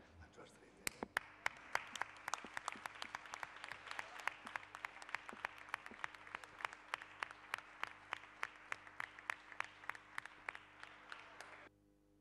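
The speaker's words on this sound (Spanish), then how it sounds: "m'agradaria que fos un aplaudiment als dos proposats, el Domingo" Applause at a council plenary meeting of the Sants-Montjuïc district: a room of people claps steadily and sustains it for about eleven seconds, then the clapping stops abruptly.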